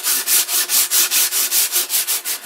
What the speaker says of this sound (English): So what we use is, this is 240 sandpaper.